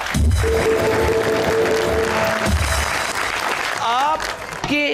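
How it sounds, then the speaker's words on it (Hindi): Studio audience clapping on a talk show, a dense burst of applause that thins out while voices and musical tones rise over it toward the end. "तालियां।"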